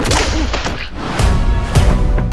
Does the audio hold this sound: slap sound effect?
yes